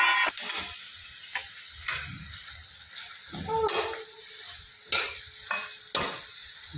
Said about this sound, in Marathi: मटण टाकून घेतलं, आता मटण हलवून घेऊया।